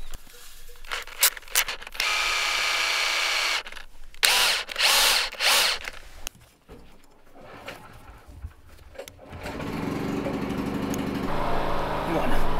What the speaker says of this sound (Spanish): Con el taladro.